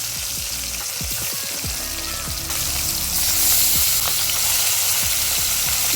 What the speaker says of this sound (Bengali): কড়াইয়ে সর্ষের তেল গরম করে এর মধ্যে কালো জিরে ফোড়ন দিয়ে দেব এবং ফোড়নের গন্ধ বেরোতে শুরু করলে এর মধ্যে ম্যারিনেট করা মাছ দিয়ে দেব